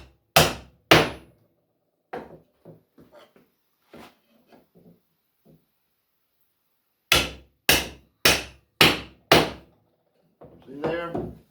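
Wooden pegs are hammered into angled drilled holes in a handmade chair, with sharp, loud blows in two bursts: a few strikes, then a quick run of five, separated by quieter handling noises and a brief voice.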